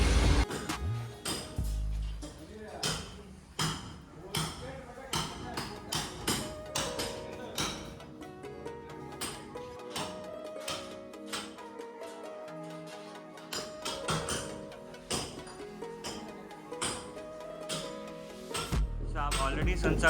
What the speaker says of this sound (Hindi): इतनी आवाज़ आ रही है क्योंकि वो बाजू रूम में कंस्ट्रक्शन हो रहा है